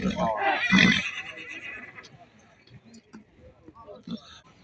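A horse at an animal bazaar in Barda gives a loud whinny at the start, followed by lively talk and the bustle of the market crowd.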